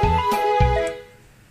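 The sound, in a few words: pizzicato string notes being played back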